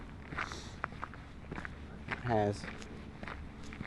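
Footsteps crunch at a steady pace on an outdoor walking circuit, close and moderately loud, with someone talking over them.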